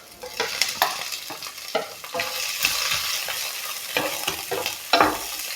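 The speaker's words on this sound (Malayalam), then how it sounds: "ഇത് പച്ചമണം മാറുന്നത് വരെ നമുക്ക് നന്നായിട്ടൊന്ന് ഇളക്കി കൊടുക്കണം." Green chilli, ginger and garlic fry in a pan for chicken mappas, stirred repeatedly with near scraping strokes over a constant, fairly loud sizzle, with no voices.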